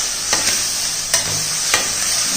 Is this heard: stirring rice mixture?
yes